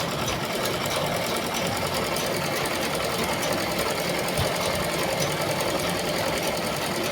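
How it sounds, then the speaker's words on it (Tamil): A sewing machine stitches fabric along a side joint, a fast steady mechanical whirr and needle chatter running continuously at even loudness, with no talking. "அதனால கேர்ஃபுல்லாக தைக்கணும்."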